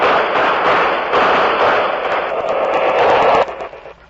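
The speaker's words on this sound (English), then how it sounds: "Here comes the firing squad now." Radio comedy sound effect of a firing squad's gunshots: a loud, dense burst of rapid shots and rumbling blasts sustained for several seconds, then cutting off abruptly.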